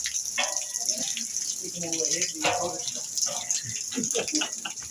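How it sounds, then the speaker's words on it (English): Liquid pours out of a village rakia still in a steady splashing stream, with people talking close by over the continuous running flow. "Not sure if this is water or rakia coming out of it."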